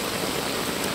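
Heavy rain falls in a dense, even hiss with no pauses, close and loud throughout.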